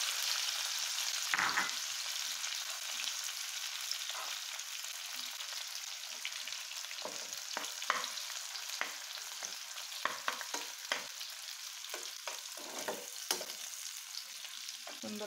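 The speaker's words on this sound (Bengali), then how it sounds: "আমি এখন প্রথমত চুলায় পেঁয়াজ, রসুন, আদা এগুলা কুচি ভেজে নেব।" Chopped onion, garlic and ginger frying on a stove, a long steady hiss of sizzling oil with intermittent stirring clicks and scrapes, fairly quiet and close.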